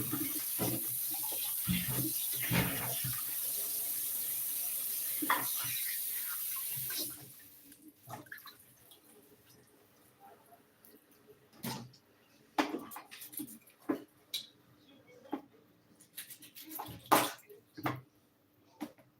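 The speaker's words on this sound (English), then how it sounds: "So we add fresh water like this." Fresh water pours in a steady hissing stream into a pot of cleaned chicken for peanut stew for about seven seconds, then stops, followed by scattered clinks and splashes.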